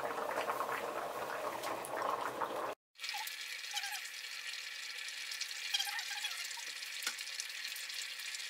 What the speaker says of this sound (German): jetzt lassen wir das erstmal richtig kochen. Das Wasser muss richtig ausdampfen